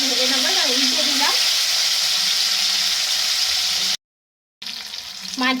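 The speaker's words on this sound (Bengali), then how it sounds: "মাছগুলো একটু লাল করে ভেজে নেবো, আর উল্টে দিলাম।" Pieces of rohu fish fry in hot oil, giving a loud, steady sizzling hiss that cuts out briefly near the end and then resumes, with no speech.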